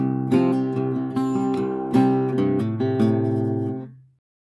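A guitar plays the short two-bar intro riff of a song, quick plucked notes and brief chords, ending on a held low note that cuts off to silence.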